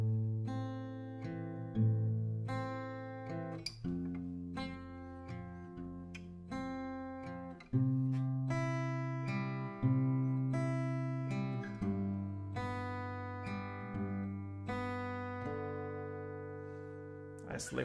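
Acoustic guitar picking a slow chord pattern for a song, with repeated plucked notes ringing over sustained low strings, played close and clear with no talking.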